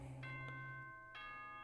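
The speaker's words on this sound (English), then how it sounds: "Ding dong bing bong?" In the video game Danganronpa 2, the school broadcast chime plays a clear, sustained multi-tone ding-dong. Two bell-like notes ring out and decay smoothly, heard alone without any voice.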